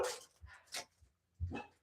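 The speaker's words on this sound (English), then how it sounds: "Excuse my dog barking in the background." A dog barks indoors in the background, giving a few short, separate barks of moderate loudness with a quiet pause between them.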